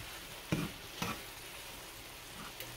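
Garlic pepper shrimp and peppers sizzling in a pan, with a soft continuous fry broken by a couple of brief clattering flips, quiet and close.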